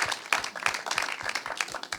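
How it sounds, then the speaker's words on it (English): A film screening audience at a Q&A session claps for the filmmakers, dense overlapping applause that stays steady and fairly close throughout. "Please give a round of applause for Haley Elizabeth Anderson, Sosena Solomon, Rebecca Richman Cohen,"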